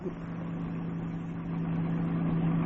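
A car engine in a 1949 setting, running with a steady low hum and faint vibration, rising slightly toward the end as the car sets off.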